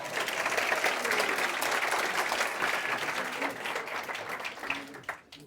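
Steady applause from a seated audience at a talk on wildlife filmmaking, dense clapping holding at an even level for several seconds and thinning slightly toward the end.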